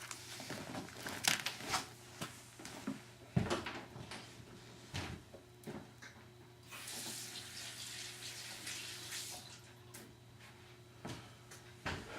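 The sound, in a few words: water running from tap while washing hands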